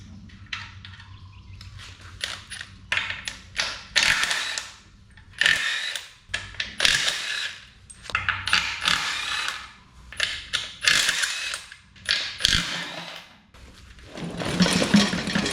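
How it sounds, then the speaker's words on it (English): Rapid mechanical ratcheting and whirring comes in repeated bursts separated by short pauses, a power tool spinning bell housing bolts loose close by on an International C1100 pickup truck. "let's get the bell housing bolts ripped out"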